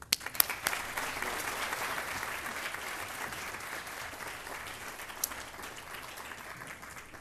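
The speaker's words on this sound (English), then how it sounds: "Let's give him a round of applause and a warm welcome." Sustained audience applause fills a hall at a California Community Colleges Board of Governors meeting, welcoming Chancellor Scott, steady dense clapping from a sizable crowd with a few sharp claps standing out, no talk over it.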